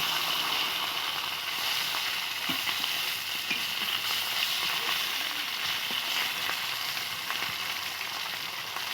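Rohu fish frying in a pan of oil gives a continuous close sizzle, with light crackle and spitting running evenly throughout and no voices.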